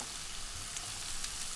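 Chicken and onion sizzle in a hot pan, a steady close frying hiss that continues evenly throughout, with no talking.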